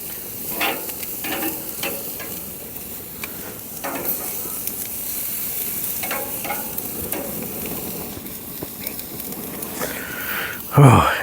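Food sizzling and frying on a Monument Grills Mesa II 410FBZ gas grill, a continuous close hiss with scraping and stirring clatters, and a louder flare of sizzle near the end as the food is flipped.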